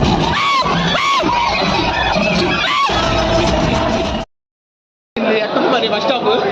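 A packed cinema audience at an Akhanda screening yells, whoops and cheers in loud overlapping bursts, cut off by a brief full silence before the crowd noise returns.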